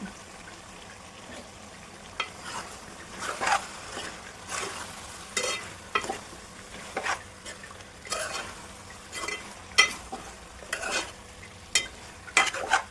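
Curry leaves, mint and coriander frying in a pan for fried chicken biryani, with a soft sizzle underneath and repeated scraping stirs of a utensil against the pan in an irregular rhythm.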